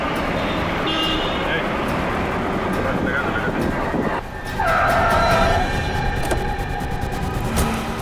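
A car brakes hard and skids to a stop in front of another car on a road, its tyre squeal swelling loud midway over steady engine and traffic noise, with voices around it.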